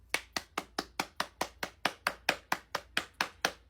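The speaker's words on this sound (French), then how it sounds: "Ça, c'est fort. Je t'applaudis." A single person clapping hands alone, about fifteen sharp, evenly spaced claps in a steady rhythm, close and clear with no other sound.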